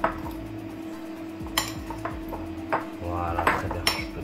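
A utensil scrapes and clinks against a bowl while salted cod is stirred and mixed for brandade, giving a run of irregular knocks and metallic taps over a steady low hum.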